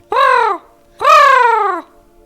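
A crow caws twice, close and loud, with a short pause between. Each call is a harsh, drawn-out rasp, and the second lasts longer than the first.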